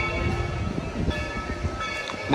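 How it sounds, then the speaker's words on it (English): The Dollywood theme park train rumbles past on its way back from a run, a close, steady rolling clatter of wheels and cars. "I hear the train coming back from its run."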